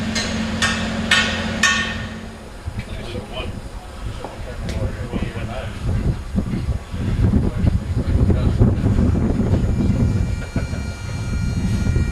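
Demolition hammering near Edinburgh Castle on a cold, windy hilltop: a few sharp, evenly spaced strikes at the start, then a steady windy rumble with scattered knocks.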